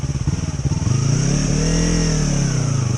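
A Yamaha R3 motorcycle engine revs up close and loud, its pitch climbing after a choppy idle, then holding steady at high revs.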